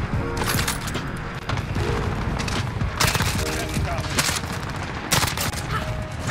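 Gunfire rattles through a Modern Warfare match with the CR-56 AMAX rifle. Rapid, loud overlapping bursts and booms repeat throughout, and a player talks over the shooting.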